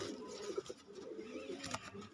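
A domestic female pigeon of a fancy breed, kept by a hobby breeder, gives faint, soft cooing with low murmuring notes over a quiet background.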